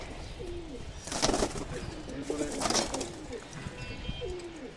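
Fancy pigeons, including a hen, coo in low, throaty rolling calls at intervals, faint and close in a quiet loft with soft background noise and no talk.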